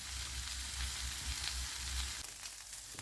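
Stuffed eggplant fries in hot oil with a dense, continuous sizzle and crackle, close and even in level, with no voices.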